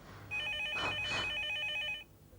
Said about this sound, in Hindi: माँ प्लीज फोन मत उठाना।